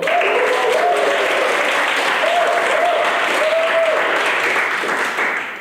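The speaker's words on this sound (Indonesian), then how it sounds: "Boleh tepuk tangan yang dari GKI Puri Indah." Church attendees from GKI Puri Indah clap together at a Christian marriage seminar, a full, even burst of applause lasting several seconds with a faint voice briefly audible underneath before it tapers at the end.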